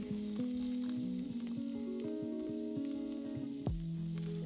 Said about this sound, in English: while our skillet is still hot, we're going to take some of our Kerrygold butter. We're gonna let that melt.